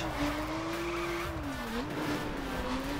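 A car in the racing game The Crew sliding and losing grip on snow: a steady, wavering tire squeal rides over the engine's constant roar, close and loud, with no one talking.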